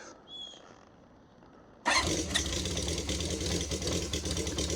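A cold Honda CB550 Supersport cafe racer motorcycle engine with one choke on cranks and catches partway through, then runs at a loud, rough, steady idle, close by.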